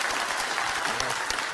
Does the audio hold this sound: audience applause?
yes